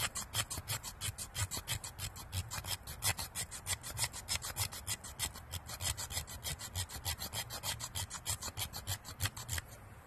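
Spine of a Mora Eldris knife scraping fine shavings off a block outdoors on a porch: steady, close rasping strokes in a fast repeating rhythm, each stroke a dry scratchy pass, continuing without pause and with no talking.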